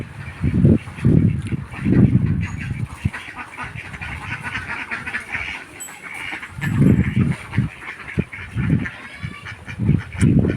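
Ducks quack in repeated loud bursts close by, several birds calling in clusters with short pauses between.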